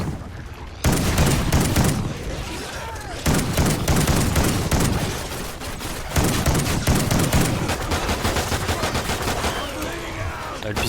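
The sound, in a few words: shotgun gunfire in video game Call of Duty Ghosts Extinction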